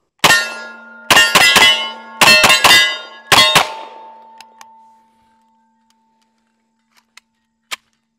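Five bursts of sharp metallic clangs ring out as M1 Thompson submachine gun rounds hit steel targets, each a quick pair or triple of hits that leave a humming ring, then a few faint, distant pings after a pause.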